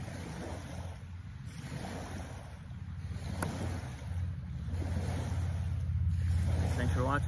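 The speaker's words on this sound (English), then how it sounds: "this boat wake is making noise behind me" Boat wake waves wash and splash steadily beneath wind rumble, growing louder toward the end, with a voice speaking faintly at times.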